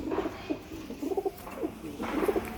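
A male pigeon coos close by in short repeated bursts of soft throaty rolling notes, with brief pauses between phrases.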